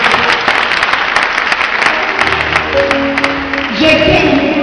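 Applause rings out from a charismatic Catholic congregation at a church gathering, a dense, steady clapping that fills the room for several seconds, with a few voices mixing into the crowd noise.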